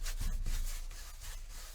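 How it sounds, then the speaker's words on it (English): A brush scrubs white oil paint across a white canvas in quick, Bob Ross–style strokes, giving a steady, close, dry rubbing scrape with a few stronger swipes near the start and no talking. "I'm rubbing white paint on a white canvas again."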